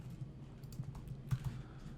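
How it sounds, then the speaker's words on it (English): Soft, irregular keystrokes as someone types random gibberish on a computer keyboard, a quiet run of light clicks with a couple of slightly louder taps near the end. "I can type some gibberish in here"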